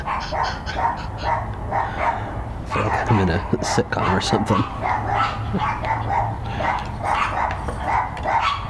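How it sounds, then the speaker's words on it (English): Dogs bark in bursts in the background at a mail carrier's arrival while a person talks over them at close range. "there's dogs barking."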